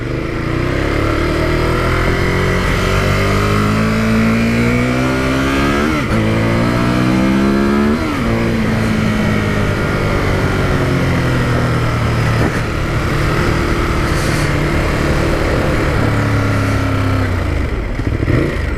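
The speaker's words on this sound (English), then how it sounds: "we're starting up on the newly launched Ducati Monster 821" A 2018 Ducati Monster 821 motorcycle engine while riding, loud and close, revving up through the gears with rising pitch sweeps and brief drops at each shift, then a steady hard drone over wind noise.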